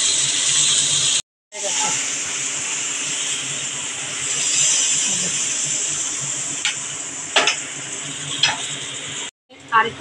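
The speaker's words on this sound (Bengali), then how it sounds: "আমি এইভাবে এক এক করে সব মাছগুলো ভেজে ফিরে আসছি" Pabda fish fry in hot oil in a pan, giving a steady, loud bright sizzle that cuts out briefly twice, with occasional sharp spits and crackles near the end as a voice talks faintly underneath.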